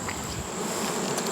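Honey bee colonies of mostly Italian stock buzzing around their hives in an August beeyard, a dense, steady hum of many insects close by, with no voices.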